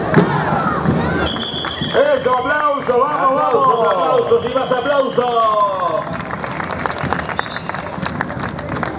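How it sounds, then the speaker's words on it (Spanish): Audience applause rises for an Aymara dance troupe performing at the 2019 carnival parade in San Pedro de Jujuy, steady dense clapping from a nearby crowd, with a loud voice talking over it throughout. "La danza de Aymara y el aplauso del público."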